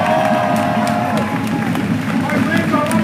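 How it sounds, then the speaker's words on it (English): A crowd at an outdoor rally applauds and cheers, a continuous wash of clapping with whoops and raised voices carrying over it throughout. "Another big round of applause."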